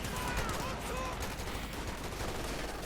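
MG42 machine gun fire in the video game Company of Heroes 2 crackles in dense, rapid bursts under a commentator's talk, with other battle noise mixed in.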